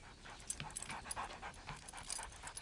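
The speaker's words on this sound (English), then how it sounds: "Oh, what a cute little dog." Small dog panting close by, quick rhythmic breaths repeating steadily and softly, alone without talk.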